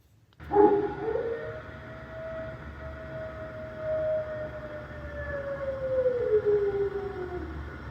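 Wolves howling in the 1931 Dracula film: a long, drawn-out howl that rises and slowly falls over several seconds, fairly loud over a steady background of old film hiss and rumble.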